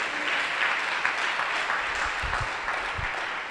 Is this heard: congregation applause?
yes